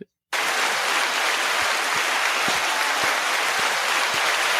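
Applause sound effect fired from a soundboard button during a podcast episode: after a brief silent gap, a loud, dense burst of clapping starts abruptly and holds steady at full level to the end.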